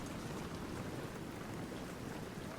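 Steady rain pours down across a battlefield in Medieval Total War: Viking Invasion, a constant soft hiss with a low rumble, quiet and unbroken throughout.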